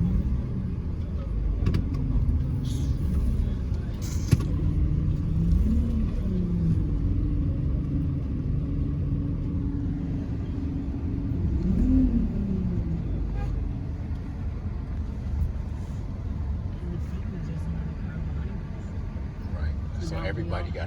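Cars move through street traffic in Lekki, Nigeria, with a steady low engine rumble and occasional revving passing nearby, under people talking throughout.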